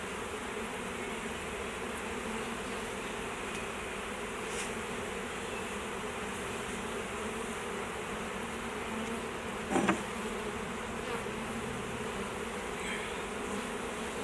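A honey bee swarm drones steadily around a hive box outdoors, a dense, continuous buzzing close by that stays even throughout with no talk.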